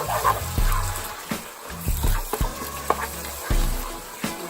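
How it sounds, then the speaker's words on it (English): Ground beef frying in a pan for red beans and rice: a steady, moderate sizzle broken by repeated clanks and scrapes of stirring, with no talking. "We're going to let that fry for a little bit longer because I like my meat a little bit more browner than this"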